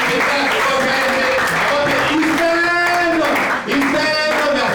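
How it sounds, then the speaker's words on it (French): Audience applause at a comedy club in Kinshasa, steady clapping from a crowd mixed with talk and cheering voices throughout. "Est-ce que vous pouvez applaudir?"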